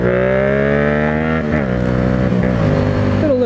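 A Yamaha FZ-07 motorcycle at full throttle in second gear at roughly 30 mph, a loud, close, steady engine drone with its pitch wavering slightly as the revs shift.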